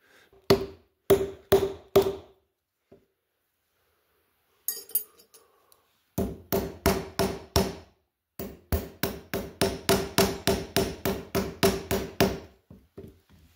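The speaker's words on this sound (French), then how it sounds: "je viens juste comme je viens de faire, cogner le fer contre le bois" Iron blade of a fleshing knife struck against wood to bend its thick corner, producing sharp, close hammer blows in short bursts of three or four, then longer steady runs of rapid knocks with brief pauses between.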